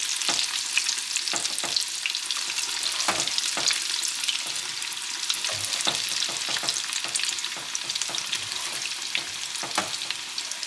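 Piyaju fritters of blender-ground lentil and onion fry in hot oil, a dense, even crackle and spatter that runs nonstop at close range without any voices.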